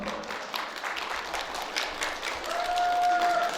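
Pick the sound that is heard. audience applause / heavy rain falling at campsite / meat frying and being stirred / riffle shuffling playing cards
audience applause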